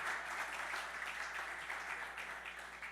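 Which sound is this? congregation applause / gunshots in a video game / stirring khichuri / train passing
congregation applause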